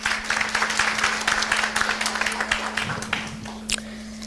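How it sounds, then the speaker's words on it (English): An audience at a municipal disaster management education event applauds a speaker with dense, continuous clapping that fades near the end, with a steady electrical hum underneath. "A round of applause for Dr. Reddy"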